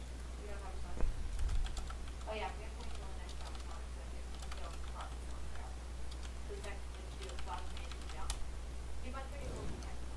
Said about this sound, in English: I'll type in the chat.